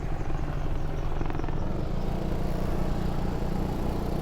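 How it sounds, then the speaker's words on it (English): An Apache military helicopter flies overhead near military bases in Hongcheon, Korea, giving a loud, steady rotor and engine roar that fills the whole clip with constant rumbling. "wow, look at this helicopter."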